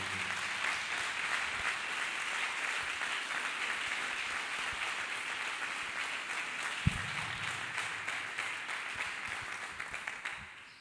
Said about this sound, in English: Clap hands for Jesus.